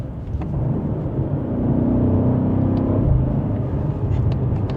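A 2025 BMW M8 Competition Gran Coupe drones along on the road, its engine giving a steady, fairly loud rumble that swells slightly midway as it pulls through the gears, with a quiet whir of tyres beneath.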